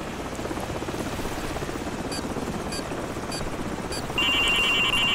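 A helicopter in the video game Call of Duty 4, its steady rotor drone filling the scene at constant loudness, with a few brief electronic beeps and a sustained tone cutting in near the end.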